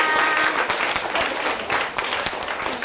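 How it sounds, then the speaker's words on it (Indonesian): Classroom applause from a group of schoolchildren: a burst of dense, fast clapping, close and loud, filling the whole three seconds without a break. "Tepuk tangan untuk semua."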